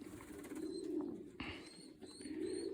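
Pigeons, including young wild ones, give soft low cooing calls close by, with faint chirps and light outdoor background noise, and no one talking.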